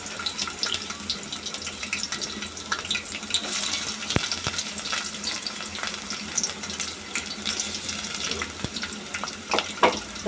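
Dried red chilies and onion hit hot oil in a cooking pot for masoor dal, giving a continuous close crackling sizzle with scattered sharp pops and clicks throughout.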